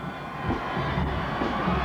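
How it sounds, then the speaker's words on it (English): A dense crowd roars continuously at the 1991 Minnesota Twins World Series championship parade, with a broad, loud, distant wash of cheering and no distinct voices. "Just listen to this crowd."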